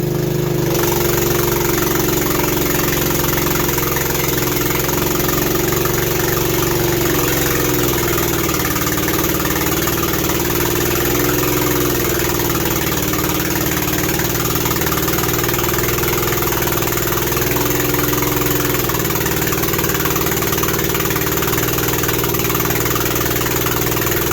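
A manlift engine runs loudly and steadily at close range, a constant rumbling drone with a rough mechanical hum and no pauses.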